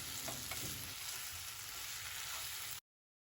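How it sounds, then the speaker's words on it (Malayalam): Kayavattan, a banana chip snack, is stirred with salt in a pan until dry, giving a continuous close scraping and sizzling rustle that cuts off abruptly. "കുറച്ച് ഉപ്പ് കൂടി ചേർത്ത് കൊടുക്കാം. എന്നിട്ട് നന്നായിട്ട് മിക്സ് ചെയ്ത് ഡ്രൈ ആക്കി എടുത്താൽ കായവട്ട റെഡിയായി."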